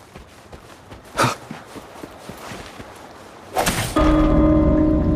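Bells ring in the Wuthering Waves video game. Footsteps and a couple of soft whooshes lead into a sustained, resonant bell chime that swells loudly near the end.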